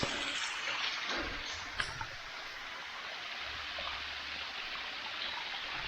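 A continuous broad rush of flowing water from a waterfall, steady and moderately distant, with a couple of faint clicks and no voices.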